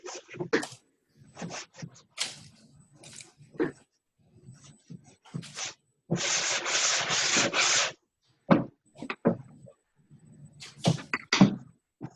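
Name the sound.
sanding with a sponge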